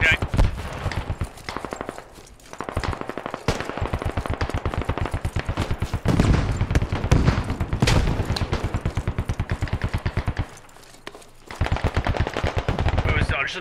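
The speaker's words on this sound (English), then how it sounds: "Gun fire up there." Sustained automatic rifle fire on a Squad battlefield, loud and close, long rattling bursts with short pauses and a brief lull near the end, while voices talk in the background.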